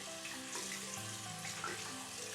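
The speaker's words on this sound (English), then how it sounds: "Next, we go ahead and turn on that water" A bathroom sink tap runs with a faint, steady water hiss, continuous and quiet throughout with no talking.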